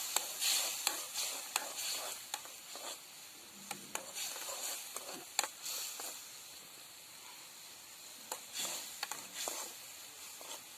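A salted shallot pickle is stirred in a hot pan with soft, close scraping strokes over a low sizzle, with occasional sharp spoon clicks and no talking.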